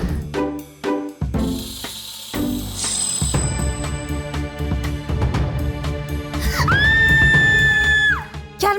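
A girl screams in loud, shrill bursts, interleaved with dramatic music hits and rising tones, the screaming stretching into a long sustained wail near the end.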